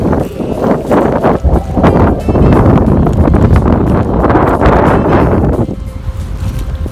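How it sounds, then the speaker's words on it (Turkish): Loud, blustery wind buffeting the microphone at a campsite near Antalya, Turkey, roaring almost continuously before easing near the end. "Biraz da rüzgar var ses."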